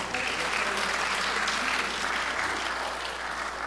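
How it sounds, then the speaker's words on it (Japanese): Audience clapping at a community concert as a performer is introduced, a dense, steady round of applause in a room with a low hum underneath, fading slightly toward the end without speech. "拍手をどうぞ。"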